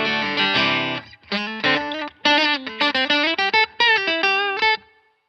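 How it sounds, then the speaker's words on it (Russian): Electric guitar played through a Mooer Tone Capture mini pedal set to emulate a Stratocaster, heard alone as short, bright picked phrases and chords with a processed, slightly driven tone and brief gaps between bursts. "А вот уже и эмуляция стратокастера."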